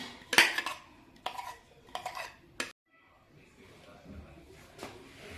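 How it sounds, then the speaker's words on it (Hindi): A spoon stirs an ice cream mixture into fruit chaat, giving several close, bright clinks and scrapes against the bowl in short bursts, followed by quieter soft mixing with no talk. "इसको अच्छे से मिक्स करेंगे हम"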